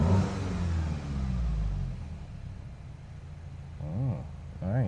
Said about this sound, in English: The car sounds really good.